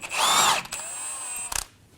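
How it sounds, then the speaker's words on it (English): A power tool with a 21mm socket spins off the drag link nut at the pitman arm of a 2019-2025 Ram 2500, giving a loud short burst followed by a thinner whine and a few quick pulses. "Using a 21mm socket, remove the drag link nut from the pitman arm."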